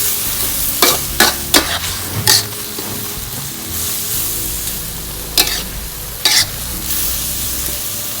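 Eel stir-fries in a spicy curry in a pan, with a constant close sizzle punctuated by several sharp metallic scrapes and clanks of the spatula against the pan at irregular intervals, with no talk.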